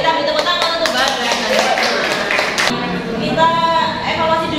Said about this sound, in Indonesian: Kita beri tepuk tangan untuk Bagas.